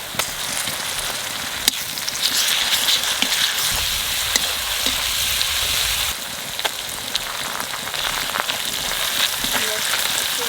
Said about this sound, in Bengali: পেঁয়াজ ভাজা হয়ে গেছে, এইবার দিয়ে দেবো আদা বাটা আর রসুন বাটা।